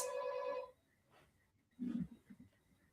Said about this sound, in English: Is that you getting a phone call? It's my intercom.